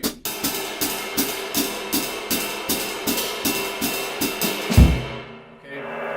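A jazz drum set played at a fast tempo, with a steady, rapid cymbal ride pattern and light drum strokes, capped by a heavier low accent before fading, close and clear with no voices.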